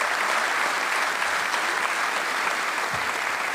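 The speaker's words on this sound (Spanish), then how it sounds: "un aplauso para la compañera" Audience at a people's congress commission session applauding a speaker, a steady dense wash of many hands clapping at even loudness throughout, with no voices over it.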